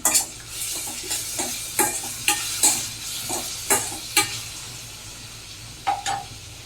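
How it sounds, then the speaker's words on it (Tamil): Small finely chopped tomato sautéing in a pan, with a steady sizzle under a series of sharp, rhythmic spatula scrapes and clinks, loud and close, as the pieces are stirred. "இப்போ நான் ஒரு சின்ன சைஸ் தக்காளி பொடியாக கட் பண்ணி வச்சுருக்கேன். அது இதில் சேர்த்துடலாம். சேர்த்துட்டு இது நல்லா வதங்கட்டும்."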